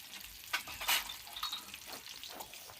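Fish frying in oil at a village fish party, a soft, faint sizzle with scattered crackles and a brief stir, close by and without talk.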